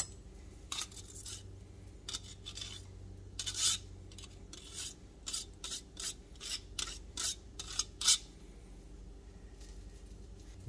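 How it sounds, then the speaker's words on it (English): Fresh ginger is grated into a sauce for glazed salmon, giving a series of short, dry raspy scrapes in irregular bursts, close and fairly quiet against a soft background hum. "I'm going to grate a little ginger into this"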